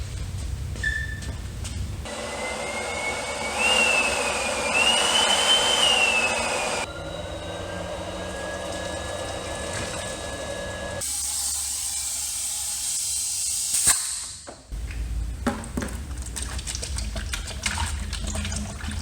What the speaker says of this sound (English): Disconnect the hoses, blow out the system with some air, blow out the radiator, the engine, all that stuff.